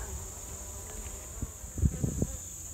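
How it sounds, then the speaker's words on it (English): Honey bees buzzing on a frame lifted from a Layens hive, a faint steady hum with a few louder close passes near the end, no talking. "the bee was doing a waggle dance and telling the other bees where to find the pollen"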